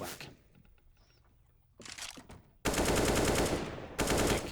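AK rifle gunfire in Counter-Strike, with sparse faint game noise first, then a short burst and two long rapid sustained bursts of automatic fire, loud and close.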